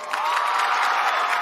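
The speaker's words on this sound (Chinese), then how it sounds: "掌声有请卢鑫、于浩" A television comedy show audience applauds and cheers to welcome the performers Lu Xin and Yu Hao onto the stage: a dense, continuous wash of clapping and crowd noise, loud and sustained throughout.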